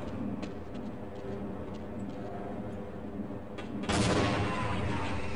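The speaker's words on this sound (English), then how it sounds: "that's a turret" An automated turret fires in the 1998 shooter Half-Life, a rapid ticking rattle of shots heard over a steady background hum, ending in a louder, harsher burst near the close.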